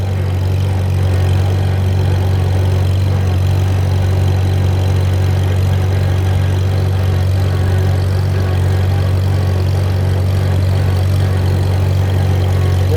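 A mower engine runs loud and close, holding a steady low drone with no letup while cutting weeds, and no voices are heard.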